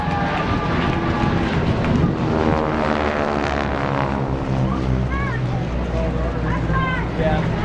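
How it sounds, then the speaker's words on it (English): A North American Harvard aircraft with a supercharged Pratt & Whitney 9-cylinder radial engine roars past at an air show over the Kincardine Scottish Festival, a loud, steady propeller drone whose pitch slides downward as it passes, with rising whistles near the end. "The propeller makes its distinctive Harvard roar."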